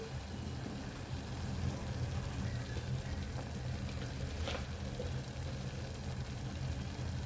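Masala sautéing in hot oil for dal makhani gives a continuous soft sizzle and crackle, close and steady, with one brief sharper pop partway through.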